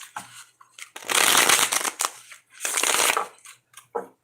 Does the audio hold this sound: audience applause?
no